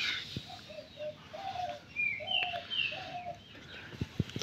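A pet kura bird gives a series of short, mid-pitched calls spaced through the clip, fairly close and moderately loud, over faint background noise with a few brief knocks near the end.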